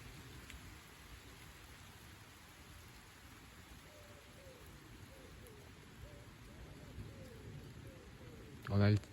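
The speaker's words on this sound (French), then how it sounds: "On entend le fondissement de la pluie" Rain pattering down during a light September evening shower with barely any wind, a soft steady hiss throughout, ending in a brief louder knock right at the close.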